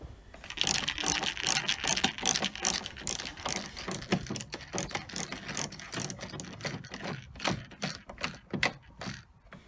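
Screws come out of the rear light cluster of a VW T5 Transporter under a hand ratchet, a long run of quick, close clicking strokes that stays fairly soft throughout.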